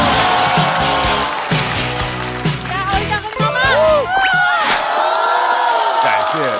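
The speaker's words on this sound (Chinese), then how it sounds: "掌声欢迎山河。" A live stand-up comedy show audience cheers and applauds as a performer is welcomed to the stage, a loud, sustained crowd roar with whoops and shouts and music or a host's voice running through it.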